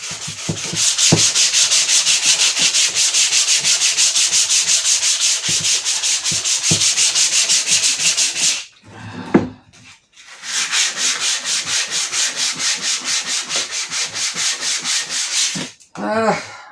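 Hand sanding on a 1993 Honda CR125R motorcycle fuel tank: steady rapid back-and-forth abrasive rubbing, close and loud, running continuously for several seconds, a short pause with small handling noises, then the strokes resume.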